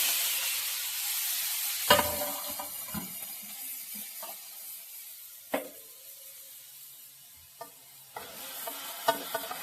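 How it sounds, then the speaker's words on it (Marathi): Grated carrot fries in hot ghee with a steady, soft sizzle, and a spoon scrapes and stirs it in a handful of sharp clacks spread through the sizzling. "तूप तापलं की त्याच्यात टाकायचं गाजर"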